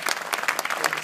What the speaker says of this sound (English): let's all give a big round of applause for Ben